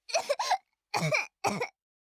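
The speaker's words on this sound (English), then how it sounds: "She started coughing." A video game character in the visual novel Chaos;Child gives a series of harsh coughs in three quick bursts: a double cough, a pause, then two more.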